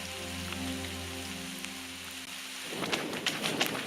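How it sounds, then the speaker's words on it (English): Steady rain pattering onto a trail during a mountain trail race, a broad even hiss that grows louder and denser in the last second, with a low droning hum underneath at first. "It's better now, less rain."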